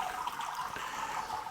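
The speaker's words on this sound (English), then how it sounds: "let's turn this valve to open up for the sparge water" Sparge water rushes steadily through an opened valve during beer brewing, a faint, continuous hiss of flowing liquid with no talk.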